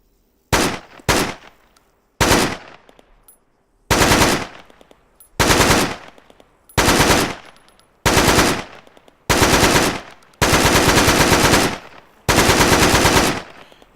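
A softer-sounding RPK machine gun from the NiArms game mod fires in a series of about ten short bursts separated by pauses, the later bursts slightly longer, loud and close with no voices.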